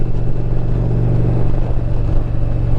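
A 2021 Indian Challenger Limited motorcycle cruises down the road, its engine a loud, steady low rumble blended with wind and road noise, with no talking over it.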